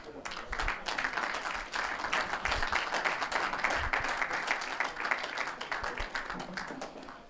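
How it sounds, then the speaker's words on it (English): Audience applause for two players after an IPA Tour Open final in Glasgow, steady dense clapping from a modest crowd sustained for several seconds, with faint voices underneath. "just have a round of applause for both players"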